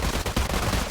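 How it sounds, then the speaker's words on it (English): Gunfire on command during a receiving training exercise: a dense, loud burst of rapid shots filling the short clip, close and continuous. "Aim. Fire."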